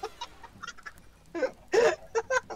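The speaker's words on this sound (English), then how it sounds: "That's so many chickens." Minecraft chickens clucking in short, scattered bursts, several overlapping and growing louder toward the end, with no talk over them.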